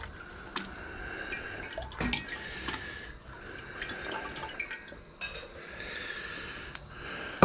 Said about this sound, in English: I rinse the flask out as best I can.